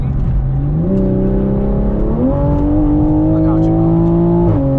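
Toyota Supra pulling hard, a loud, close engine climbing in pitch through several gear shifts, with someone talking over it.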